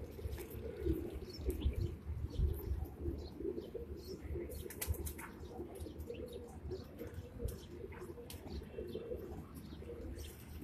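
Pigeons kept in a small cage on a rooftop loft, with soft cooing and bursts of wing flapping at close range. Faint chirps and low background rumble run throughout.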